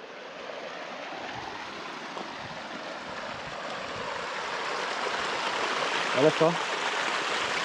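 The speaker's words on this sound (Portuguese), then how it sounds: "Quanta água desce daí de cima, pessoal. Vem lá de cima dos morros aí pra esse córgo aí" Rainwater from the hills rushes into a creek beside a road after heavy rain, a steady broad roar of flowing water that swells slightly toward the end, with a short spoken remark over it.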